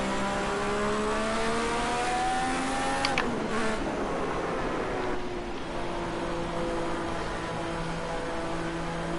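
Ayrton Senna's turbocharged Lotus Formula 1 car in a racing video game, its engine droning steadily with a rising pitch, then a sharp shift and continued high-revving whine with turbo hiss, loud and constant throughout.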